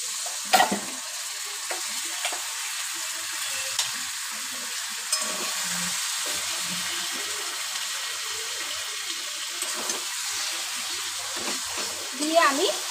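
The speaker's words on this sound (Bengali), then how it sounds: "আর আমি আমার ম্যারিনেট করে রাখা মাটনটাও এর মধ্যে দিয়ে দেবো।" Marinated mutton for keema sizzles steadily in a hot pan, a continuous hissing fry with occasional stirring clinks and scrapes.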